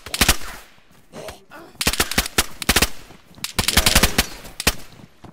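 Rapid automatic gunfire in the survival video game DayZ, loud and close, coming in several dense bursts of shots with short gaps between them, with no talking over it.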